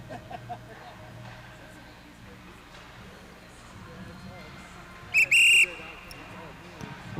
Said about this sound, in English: We're going to hear the whistle from our starter